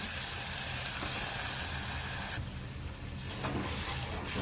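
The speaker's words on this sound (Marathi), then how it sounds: "तर भाजी घालून घेऊया सगळी." Spinach tipped into a hot garlic tempering in a pan makes a loud, dense sizzle that drops sharply partway through and settles into a softer crackle, with no voices over it.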